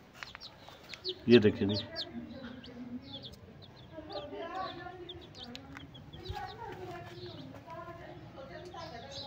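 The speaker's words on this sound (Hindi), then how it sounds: "ये हमारा ने चूजे मंगाए हुए कितने प्यारे चूजे हैं रंग बिरंगी चूजे" Colorful baby chicks peep and cheep in a yard, their small high-pitched calls scattered through the scene beneath someone speaking Hindi nearby, with a brief louder knock early on.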